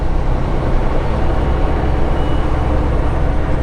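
A 2018 Peterbilt 389 truck with an 18-speed transmission, its engine a steady, loud, low rumble close by with no break or pause.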